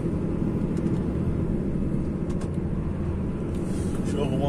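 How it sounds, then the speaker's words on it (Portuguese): A DAF XF 480 truck engine-braking through town, a steady loud low rumble throughout with continuous broadband road and cab noise. "só tô no freio motor aqui"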